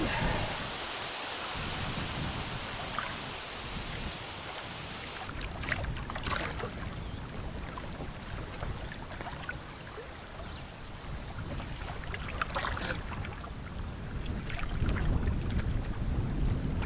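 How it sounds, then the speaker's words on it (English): Strong gusty wind buffets the microphone while canoeing solo on Baker Lake in the Boundary Waters, a constant loud roar with rushing surges and occasional water splashes, no voices heard. "Now it looks like we got a lot of wind."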